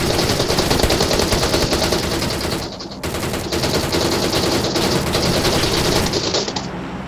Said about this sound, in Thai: เฮ้ยมีคนยิงเพื่อนมีคนยิง